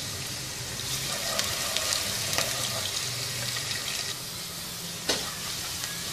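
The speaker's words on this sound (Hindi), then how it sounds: "एक दरमियाने साइज़ का प्याज स्लाइसिस में कटा हुआ, इसको हल्का सुनहरा फ्राई करेंगे" Sliced medium onion frying in about four tablespoons of oil in a pot gives a soft, steady sizzle and hiss, with a few sharp stirring clinks and taps on top.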